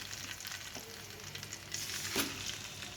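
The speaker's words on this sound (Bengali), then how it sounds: "মিডিয়াম করে ভেজে নিতে হবে আমি আবারও দিয়ে দেব বাকি মাছগুলো" Rui fish frying in oil over medium heat, a soft steady sizzle with a brief louder crackling burst near the end, quiet and close with no talking.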